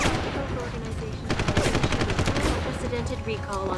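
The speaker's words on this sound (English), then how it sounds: "The police are shooting at me." Police open fire in Deus Ex: Human Revolution, a loud, rapid burst of automatic gunfire rattling almost without pause over busy game noise.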